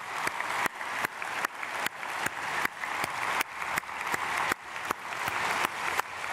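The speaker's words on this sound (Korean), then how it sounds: "박수하겠습니다." A church congregation applauds during a dawn prayer service, dense sustained clapping with regular strong accents, moderately loud and unbroken.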